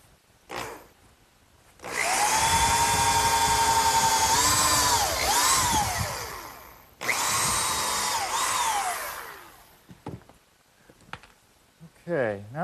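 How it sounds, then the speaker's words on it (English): A power drill bores screw pilot holes into pressure-treated lumber, two long whining runs with pitch dips as the bit bites, close and loud, separated by brief pauses and followed by a few short handling sounds and speech. "pre-drill some holes for the screws"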